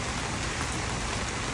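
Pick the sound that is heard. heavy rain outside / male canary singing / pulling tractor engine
heavy rain outside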